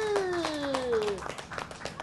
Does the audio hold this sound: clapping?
yes